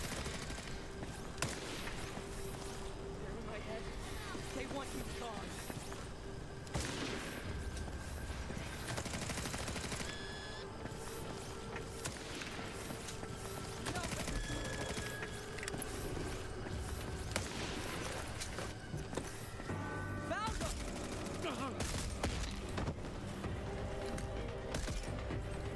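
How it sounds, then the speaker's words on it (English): Gunfire in the video game Redfall crackles faintly and steadily throughout, sharp shots and bursts over a dense, continuous game soundscape. "Someone's shooting at me."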